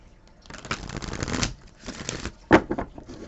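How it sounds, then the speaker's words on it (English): Tarot cards being drawn and shuffled by hand, a run of soft papery riffles and flicks, then a sharper slap and a few quick card snaps near the end, close and fairly quiet. "I guess I need to just draw more cards"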